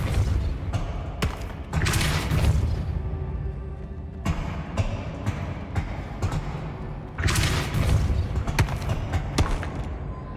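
Spell-casting effects from the video game Hogwarts Legacy, with a Depulso force spell among repeated thumps, booms and swooshing bursts in dense, loud game audio, no voices.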